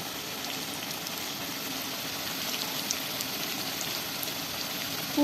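Coconut prawn pakoras fry in a moderate amount of oil over medium heat, a continuous even crackling sizzle heard close and alone.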